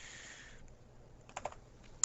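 A few soft, quick keystrokes on a computer keyboard patter close by, a short cluster of light clicks heard alone over faint background hiss.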